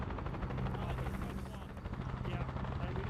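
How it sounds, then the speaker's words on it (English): Helicopters in an Arma convoy mission, a dense rotor thump that pulses continuously and fills the scene, with possible gunfire and voices mixed beneath. "Just in time for another duo of helicopters."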